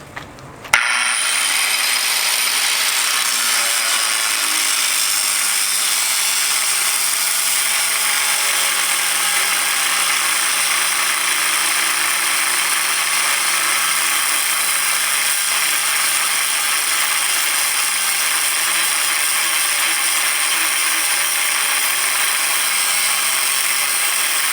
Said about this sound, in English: Up with the other saw, there's the other grinder.